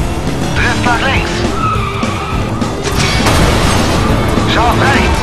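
A stunt car drifts in a junkyard chase in the video game Stuntman Ignition, loud tire squeals and skidding over a roaring engine, with crashes and booms and a voice talking throughout.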